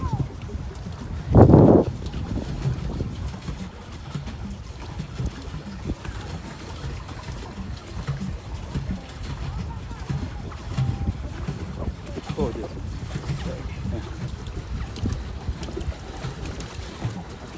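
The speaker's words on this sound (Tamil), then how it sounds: "நாங்கள் பெடல் போட்டில் போகிறோம்" Pedal boat moving across water at a beach resort, with low churning and splashing from the paddle wheel, a bump near the start, and faint voices nearby.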